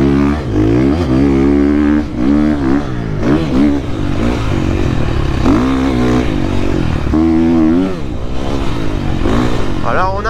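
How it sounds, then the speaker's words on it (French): A KTM enduro motorcycle engine revs repeatedly in loud, close bursts, rising and falling in pitch several times during an off-road test ride. "le moteur monte bien en régime"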